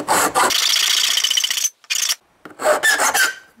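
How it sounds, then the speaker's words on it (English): A triangular file rasps across the rim of an aluminum can, cutting notches for an alcohol stove in a few close, loud strokes separated by short pauses. "is take a triangular file. Make a notch there, turn it, and turn it 90 degrees"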